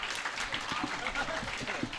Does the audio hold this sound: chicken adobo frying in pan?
no